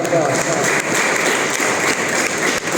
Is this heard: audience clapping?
yes